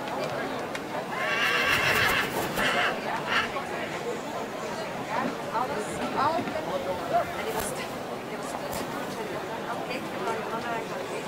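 Draft horses neigh and whinny at a horse show judging event, with hooves clip-clopping and a crowd chattering in the background; a loud whinny stands out early, then softer calls continue under steady babble.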